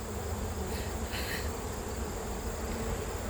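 Honey bees buzz at an open hive, a dense, steady swarm hum that stays close and loud throughout with no voices.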